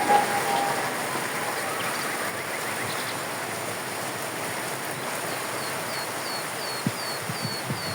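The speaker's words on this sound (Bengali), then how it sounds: "প্রচন্ড বৃষ্টি।" Heavy rain hisses continuously and evenly, with faint bird chirps above it and a couple of soft knocks near the end.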